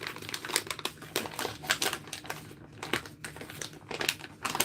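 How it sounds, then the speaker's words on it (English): A plastic snack bag of Skittles crinkles and crackles close up as someone struggles to pull it open, with irregular rustling bursts and no talking. "if I ever can get the bag open"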